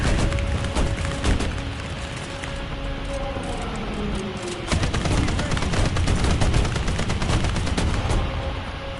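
Sustained machine gun fire with scattered shots and booms in the War Thunder video game, dense rapid bursts that keep up loudly throughout.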